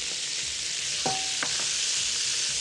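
Beef strips coated in flour, thyme, salt and pepper sizzle in a hot pan as a spoonful of butter is added. The steady frying hiss comes with a short squeak and clink of stirring, and no talk.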